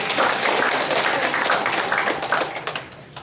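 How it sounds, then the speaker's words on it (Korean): Church congregation in Incheon giving a round of applause, dense close clapping that holds steady then breaks into scattered claps and fades out. "여러분 용서의 박수 한번 보내주시기 바랍니다."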